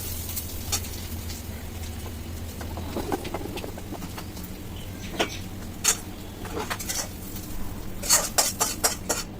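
Dishes, pots and pans being washed during a home morning kitchen routine, with scattered clinks and clatters of utensils and metal over a steady background hum, sharper knocks clustering toward the end.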